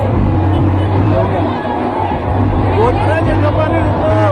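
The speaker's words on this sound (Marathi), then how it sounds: "बहुत गर्दी झाली आहे, बहुत गर्दी." A large crowd gathers for a kalash procession in Amravati, producing a loud, steady babble of many voices with traffic hum underneath and someone talking close by.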